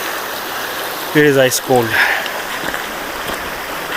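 Ice-cold creek water flows steadily at a stream crossing on a hiking trail, a constant close rushing under a person speaking briefly.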